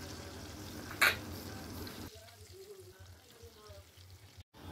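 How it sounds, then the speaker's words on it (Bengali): Pabda fish frying in hot oil in a wok give a faint, steady sizzle, with a sharp clatter near the start and a quieter, crackling fry afterward. "কড়াইয়ের তেলটা ভালো করে গরম হয়ে গেলে তারপরে একে একে মাছগুলো সব দিয়ে দিলাম।"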